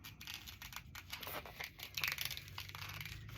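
Scissors trim paper cut from a catalog, giving soft, close crinkling and snipping sounds with a brief sharper cut near the middle, quiet and without speech.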